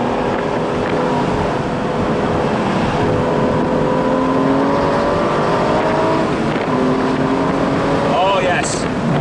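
An Aston Martin V12 Vantage S Roadster engine pulls hard on an open road, heard from inside the cabin as a loud, steady drone whose pitch climbs through the gears under rushing wind.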